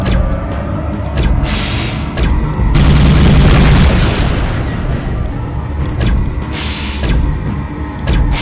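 Spaceship weapon fire in the space combat game Tachyon: The Fringe, loud booming energy blasts and bursts that swell into a dense barrage, then continue as repeated thumps over a droning hum.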